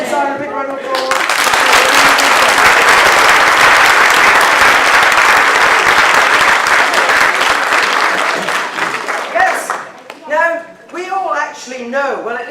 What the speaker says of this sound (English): This is our big round of applause.